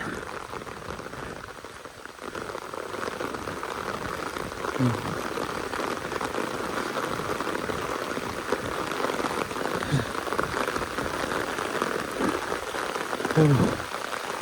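Heavy rain drums on a roadside surface near landslide sites, a steady broadband wash with a few brief louder patters, continuous and fairly close, with no clear talk.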